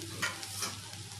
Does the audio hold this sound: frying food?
yes